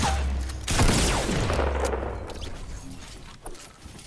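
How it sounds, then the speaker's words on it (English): A scoped assault rifle fires in a rapid, dense burst during a Fortnite Battle Royale match. The loud, close crackle of gunfire fades into scattered single shots and echoes, and no one talks. "I don't know why I was shooting my scoped AR."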